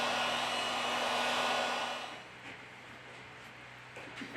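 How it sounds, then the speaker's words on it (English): A heat gun warms a Huawei Mate 10 Pro phone to loosen its battery cover. It blows with a loud, steady airy whoosh for about two seconds, then drops to a quieter hiss with faint handling clicks. "We apply heat to the device to remove the battery cover."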